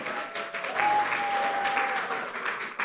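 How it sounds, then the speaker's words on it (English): An audience applauds at the Caribbean Global Awards 2023 ceremony as an honoree is called on stage: sustained dense clapping filling the room, with a faint tonal whine and slight background voices. "Big round of applause, please."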